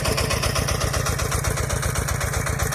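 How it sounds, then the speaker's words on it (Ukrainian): A small walk-behind motor tractor engine chugs steadily with a fast, even putter, working with a planter attachment, heard close and alone with no voices. "бачите, тракторець працює, диму наче немає"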